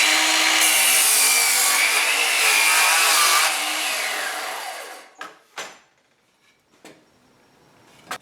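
A DeWalt 20V cordless 7-1/4-inch sliding compound miter saw makes a 45-degree cut through a 5/4 board. The loud, close whine runs for about five seconds and then spins down, followed by a few short knocks and clunks.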